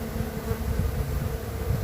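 Honeybees buzzing in a backyard beekeeping apiary, a steady low drone of many insects close by, with wind noise mixed in and no talk.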